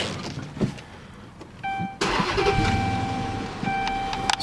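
A 2014 Dodge Charger PPV police car with about 110,000 miles cranks briefly and its engine catches, settling into a loud, steady idle with a faint chime sounding over it.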